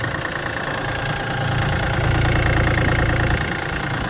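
A red Yanmar F220 tractor's diesel engine idles steadily and loudly nearby, a constant low chugging rumble that swells slightly midway, with no voices.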